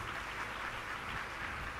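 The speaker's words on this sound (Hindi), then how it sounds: "लॉयंस क्लब के सब लोगों के काजे एक बार ताली बजाओ।" A crowd applauds steadily at a religious katha gathering, a dense even wash of clapping held through the whole moment with no voices over it.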